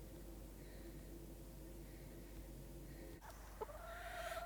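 Backyard chickens cluck softly and intermittently close by, with a brief sharp knock near the end followed by a rising squawk.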